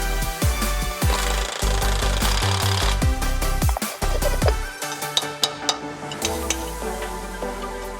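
A pneumatic air hammer rattles in loud bursts against a Duramax pickup's steering center link, with sharp metallic knocks and short pauses between runs of rapid hammering, close up.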